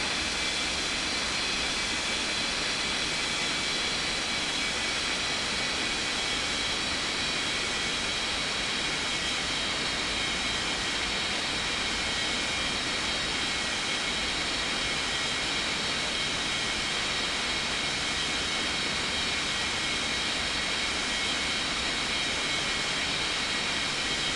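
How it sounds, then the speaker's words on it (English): Jet Airways airliner taking off from runway 21 right, a loud continuous broadband jet engine roar that holds steady throughout, with no voices. "Cleared for takeoff on 21 right Jet Airways 90455."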